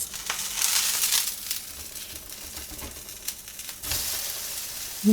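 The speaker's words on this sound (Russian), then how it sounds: "И жарим по несколько минут с каждой стороны." Steady hissing sizzle of pancake batter frying in a hot covered pan, with faint crackles and a short clunk at the end.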